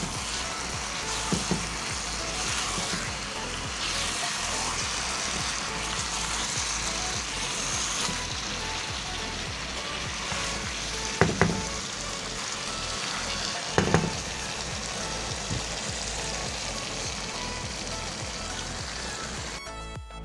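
Previously fried kebabs dropped into a buttery restaurant-style karahi masala gravy, giving a loud, steady sizzle and crackle that fills the whole stretch, with a couple of sharp clinks of utensils.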